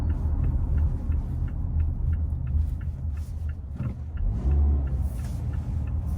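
A Mazda CX-5 on a test drive with low engine and road rumble inside the cabin, a faint regular ticking, and a brief swell of louder rumble near the end, steady and moderately quiet.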